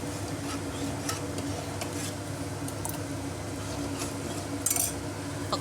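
A spoon clinks and scrapes against a metal pan while salted egg curry is stirred, steady light tapping and squishing close up over a constant background hum, with one brighter clatter near the end.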